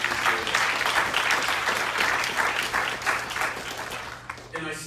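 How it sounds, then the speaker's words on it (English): An audience at a youth reinvestment education summit gives a sustained round of dense, loud applause that fades slightly toward the end. "So please give them a round of applause."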